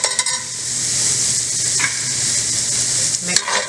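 Jalapenos and a spoonful of garlic sautéing in a pan for sweet potato hash, a loud, dense sizzle held throughout with brief bursts of stirring and scraping near the start and end.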